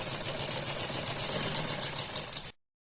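A sewing machine stitches fabric for a neck design, a close, steady rapid whir and clatter that runs for about two and a half seconds and then stops abruptly.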